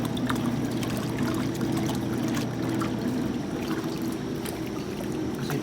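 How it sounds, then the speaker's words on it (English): Two Maytag washing machines agitating water, a steady continuous sloshing churn with a constant low motor hum throughout, loud and close with no pauses. "See, they both agitate very well."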